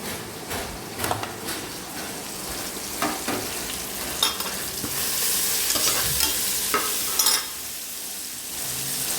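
Small-cut chicken pieces for biryani frying in a pan, with a steady sizzle and repeated scraping stir strokes from a spoon against the metal, close and clear with no talking.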